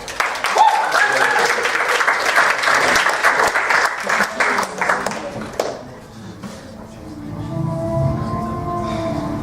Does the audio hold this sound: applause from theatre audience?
yes